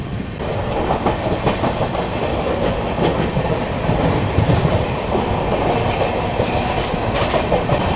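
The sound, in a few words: Mahabodhi Express train running towards Khurja Junction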